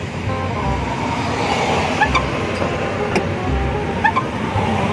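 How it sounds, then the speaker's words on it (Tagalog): Aftermarket secondary clutch on a Hyundai Accent car, heard as a steady engine drone with faint recurring clicks or chirps rising over a continuous rumble, close and fairly loud, with no talking. "Yung tumutunog na yan, yan yung secondary clutch kung tawagin."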